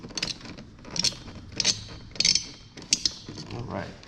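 Screws being tightened in a diagonal pattern during a PC build, heard as a few short close ratcheting, creaking bursts roughly every half second.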